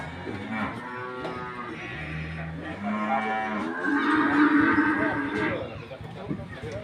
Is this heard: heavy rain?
no